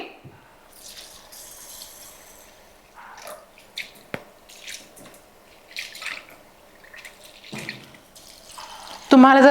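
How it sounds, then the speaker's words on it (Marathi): Toor dal (pigeon peas) is washed in water, with scattered drips, splashes and swishes in a quiet kitchen and a louder gush of water at the end. "ही तुरीची डाळ एक दोन ते तीन वेळा चांगली स्वच्छ धुवून घ्यायची"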